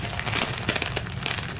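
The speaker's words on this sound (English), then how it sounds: "We've also got a Kotex, which comes in a plastic bag" A plastic bag around a Kotex pad in a first aid kit crinkles and rustles close up, loud and continuous with irregular crackling.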